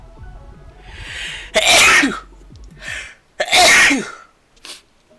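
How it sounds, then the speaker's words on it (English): Two forceful sneezes, each preceded by a sharp inhaled buildup, with a smaller sniff afterward; close to the microphone with no talking. "As I'm about to sneeze really bad."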